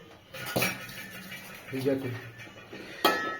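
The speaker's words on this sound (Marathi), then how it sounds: "मी फक्त कांदे टमाटच टाकतो आणि मस्तपैकी हे आपण मिक्स करून घेऊ" Onions and tomatoes are stirred in oil in a pan, with a utensil clanking and scraping against the metal in a few sharp hits and softer rubbing, close by, with a voice present.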